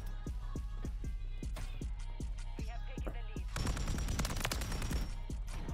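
Pulemyot 762 light machine gun in MW3, fitted with a part that makes it fire extremely fast, rattling off a rapid, even stream of shots. The fire grows denser and louder near the end as hits and impacts layer on top.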